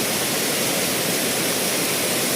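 The Kothapalli waterfall roars as a dense, constant rush of falling water, loud and close, with no voices.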